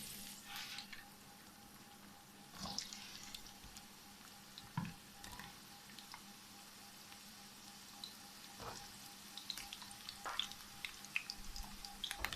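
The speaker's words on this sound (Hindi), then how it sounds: "इसके बाद हम प्याज फ्राई कर लेते हैं।" Onions fry in a pan while chicken jalfrezi is being made, giving a steady, quiet sizzle throughout with occasional faint clinks and stirring noises and no talk.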